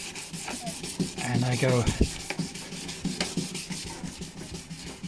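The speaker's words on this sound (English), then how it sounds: "Now I take some 220 sandpaper" A boat part is hand-sanded with 220-grit sandpaper, rhythmic close rasping strokes repeating steadily, with a brief spoken phrase near the start.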